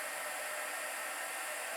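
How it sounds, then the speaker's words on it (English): A hair dryer blows steadily on wet paint to speed drying before a second coat, a loud, constant whooshing hiss filling the whole moment with no talking. "I'm going to hit it with the dryer so I can quickly put on a second coat"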